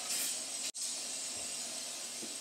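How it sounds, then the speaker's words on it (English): Brake cleaner sprayed onto sprayer pump parts from a Hypro D50 diaphragm pump, a continuous close aerosol hiss with one brief break in the middle. "I'm going to go ahead and clean this up with some brake cleaner."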